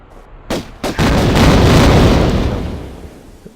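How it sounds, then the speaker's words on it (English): A large explosion in the Tomb Raider game, set in the Obelisk of Khamoon level, opens with two sharp loud blasts, then swells into a sustained roaring rumble that slowly fades with no talk. "The explosion caught me, that's never happened before."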